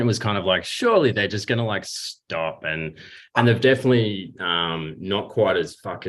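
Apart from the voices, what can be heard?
None of the usual background noises is heard.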